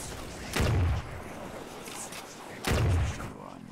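Turret deployed in the sci-fi shooter Firefall fires two heavy, booming bursts about two seconds apart, loud and close over a steady background of game ambience.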